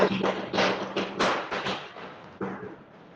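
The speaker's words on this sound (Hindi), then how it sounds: "दिवाली के पटाखे फूट रहे हैं" Diwali firecrackers burst in a run of muffled thuds and cracks, several in quick succession with uneven spacing, fading and reverberant as if from a distance, with no talk.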